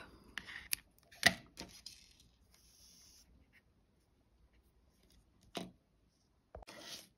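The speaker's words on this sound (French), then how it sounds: "Je garde du fil pour la couture et je coupe." Scissors cut crochet yarn in a quiet room: a few brief, crisp snips and small handling rustles spaced apart, close by, with long silent gaps between them.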